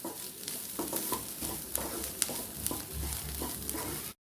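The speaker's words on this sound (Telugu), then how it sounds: "పచ్చి కొబ్బరి తురుము వేసుకున్నాక మరొక 2 మినిట్స్ ఉడికించుకుందామండి." Carrot and bean fry with grated fresh coconut cooking in a pan, with a gentle sizzle under repeated scraping and stirring strokes at a quiet, close level.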